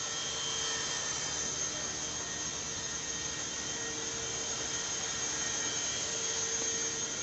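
A Syma S800g coaxial RC helicopter flies and spins in pirouettes, giving a continuous, even whine of small electric motors and rotors, close and steady throughout with no talk.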